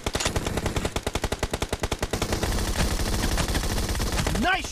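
Rapid automatic gunfire in the PUBG Mobile video game, a long string of evenly spaced loud shots that blurs into a denser barrage, ending with a brief rising sweep of a game effect.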